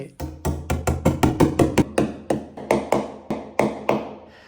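Wall anchors are tapped into drilled holes in a concrete wall, heard as a close, steady series of about seventeen sharp knocks in a quick, even rhythm.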